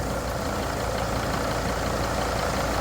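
A car engine idles with a steady, loud, continuous rumble close by, holding an even churning drone with no talking.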